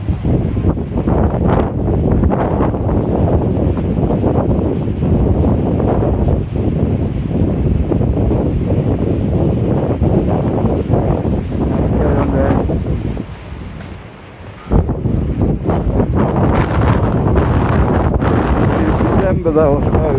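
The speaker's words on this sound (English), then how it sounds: "As you can hear, the wind's getting up now" Loud, gusting wind sweeps the Benidorm seafront on the Costa Blanca, battering the microphone with a continuous rumble that briefly drops away near the end before surging back, and faint speech may sit beneath it.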